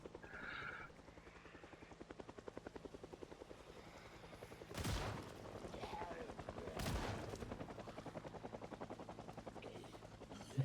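A helicopter in the game Project Zomboid beats with a steady rotor thump throughout, while two sharp shotgun blasts crack out midway, all fairly quiet.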